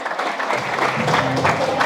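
Loud, dense applause from an audience at an award ceremony honouring a former army soldier, steady and sustained throughout without pause.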